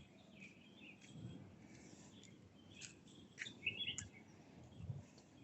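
Birds chirp in a tamarind-like tree in a park, scattered faint tweets and short calls at a distance, irregular and sparse over a quiet background.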